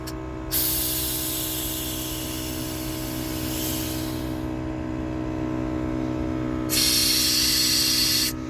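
An air compressor runs steadily, hooked up through a vent, with a constant mechanical hum and bursts of loud airy hiss near the start and end.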